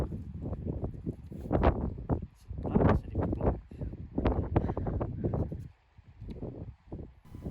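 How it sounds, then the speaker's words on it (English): Strong wind buffets an exposed outdoor spot atop an old foundation, coming in loud, uneven gusts that rumble and roar against the microphone with brief lulls between them. "As you can hear, it was quite a windy spot."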